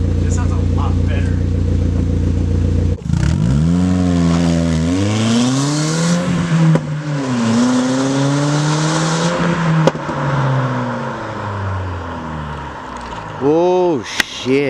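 The engine of a Hyundai Genesis with its muffler removed revs loudly and close by, the pitch rising and falling in repeated swells over a rough idle, with people talking over it.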